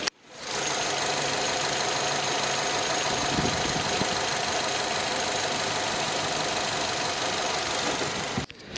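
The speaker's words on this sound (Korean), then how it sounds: "엔진 소리 한번 들어보시겠습니다" A 2008 Samsung SM5 Impression LE sedan with about 80,000 km idles, its engine a steady, even hum with a light rhythmic clatter, heard up close and alone for several seconds before cutting off.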